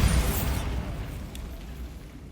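A Bombarda blasting spell explodes in Hogwarts Legacy, one loud boom at the start that decays into a fading rumble over about two seconds.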